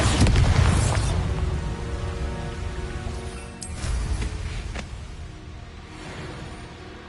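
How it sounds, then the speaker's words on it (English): Spell blasts from Bombarda and Confringo in Hogwarts Legacy, a fantasy video game: a heavy boom at the start fading out, then a few smaller bursts and crackles further on. "Confringo! Bombarda!"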